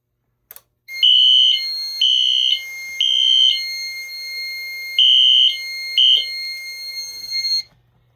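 Wheelock NS fire alarm horn strobes blare during a system test, loud repeated beeping horn tones in a stop-start pattern of bursts over about seven seconds, with no talking.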